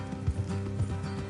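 Horse hooves clip-clopping at a steady trot in a Red Dead Redemption 2 outdoor ride, close and fairly loud, with a low rumble underneath and a brief whinny-like hint.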